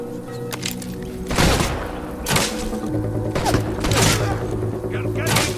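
Heavy gunfire and thudding impacts hit the player in the video game Fable, a few loud booming bursts spaced about a second apart over a steady droning game soundtrack.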